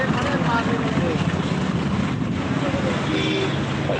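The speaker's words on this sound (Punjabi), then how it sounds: "ਮੀਂਹ ਪਈ ਜਾਂਦਾ" Steady rain pours outdoors with gusting wind, a dense unbroken hiss filling the whole stretch at an even level, with a voice faintly audible beneath it.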